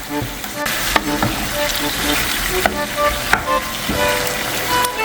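Sausage, mushrooms and tomatoes fry in a pan with a continuous close sizzle and crackle, punctuated by a few sharp knocks and clicks from turning the food.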